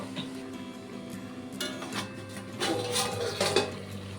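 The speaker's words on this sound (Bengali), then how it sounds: "একটু নেড়ে ছেড়ে দিয়ে আমি মাটনটাকে ঢেকে দেব।" A metal lid is set over a pot of mutton kosha cooking on a gas stove. Light, close clinks and scrapes of metal on cookware come in a few short bursts against a low kitchen background.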